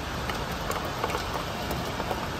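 Heavy rain falling steadily during a storm, a dense, continuous hiss of drops drumming on surfaces close by with a constant, even loudness and no voices.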